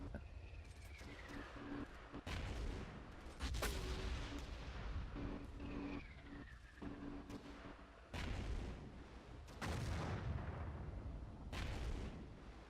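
Missiles and artillery firing in Battlefield 1942, heard as several loud booming blasts at irregular intervals over a rumbling battlefield background, with whistling streaks of incoming rounds between the explosions.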